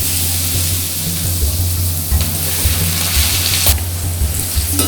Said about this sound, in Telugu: ఇదిగోండి ఇలా వేపుకుంటున్నాను కదా